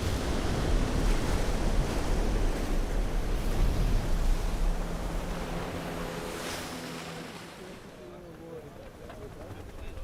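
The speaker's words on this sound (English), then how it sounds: "Jaws is one of the biggest waves in the world." Big ocean waves break at Jaws, a giant surf spot, as a loud, continuous wash of surf roars up close under wind buffeting the microphone, with people talking in the background.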